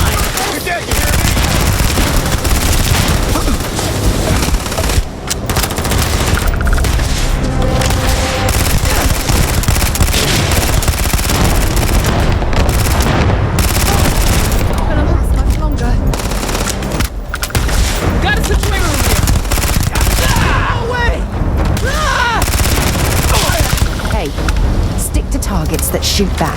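Dense firefight in the video game Starfield, with rapid automatic gunfire and bursts of shots hammering almost nonstop at close range, mixed with booms and shouted voices.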